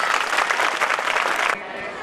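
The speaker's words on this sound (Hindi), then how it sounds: "सबसे पहले बच्चे जो अपने लिए तालियां बजाएंगे बहुत जोर से।" Children at an awards ceremony clap loudly together in a dense, steady burst of applause that cuts off abruptly near the end, with faint room noise after.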